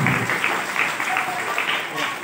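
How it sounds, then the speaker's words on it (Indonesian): Applause from a school audience at a Kaamatan harvest festival celebration, a steady wash of many hands clapping throughout, fairly loud with some speech-like sound mixed in. "Berikan tepukan untuk diri sendiri sekali lagi."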